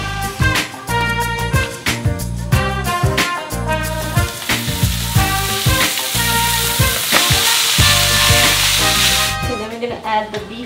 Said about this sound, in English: we are going to cook the minced beef in butter with onion to put on the top